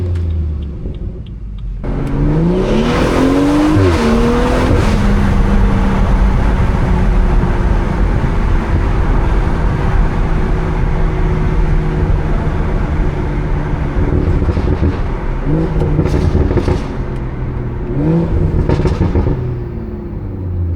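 Loud engine of a 500 wheel-horsepower BMW with a B58 engine on a daytime drive, revving and rising in pitch with intake whoosh and burbling pops, the rough rumble holding steady throughout with surges near the start and end.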